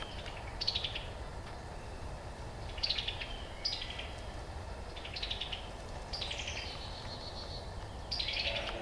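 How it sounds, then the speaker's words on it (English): Blue jays call repeatedly around a woodland campsite, sharp chirping cries in scattered bursts at mid distance over a steady outdoor background. "the blue jays are just giving up the positions of other animals"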